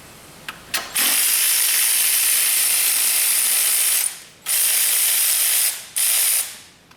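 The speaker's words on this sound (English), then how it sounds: "cordless ratchet. It's an AC Delco heavy duty." An AC Delco heavy duty cordless ratchet whirs loudly and close up in three long bursts, with brief pauses between them and no talk over it.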